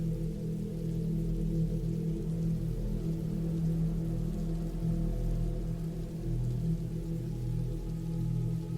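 Steady rain falls continuously, an even wash of drops with low rumbling underneath and no voices.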